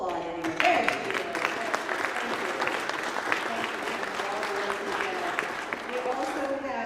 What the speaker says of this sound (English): We'll applaud anyway.